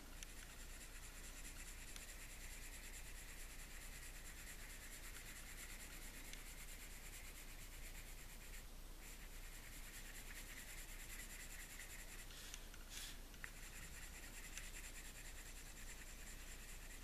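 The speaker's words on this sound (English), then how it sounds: "I'm going to blend the pink into that orange" Colored pencil rubbing steadily across paper as pink is blended into orange, a soft continuous scratchy stroking, close and quiet, with no voices.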